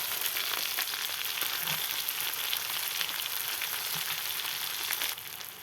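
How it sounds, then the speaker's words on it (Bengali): Onions frying in oil in a pan just after hilsa fish has been fried, giving a loud, steady, close sizzle that runs throughout and softens slightly at the very end. "এখন আমি পেঁয়াজ দিয়ে দিব।"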